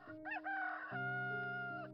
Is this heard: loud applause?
no